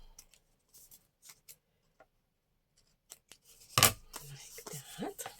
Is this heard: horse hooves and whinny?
no